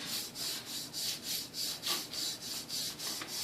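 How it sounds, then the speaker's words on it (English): Rhythmic rubbing as a hand smooths vinyl lettering onto a surface, sweeping from one side to the other in about eight even strokes, close and steady with no talking. "I'm just going to smooth it down, going across from one side to the other"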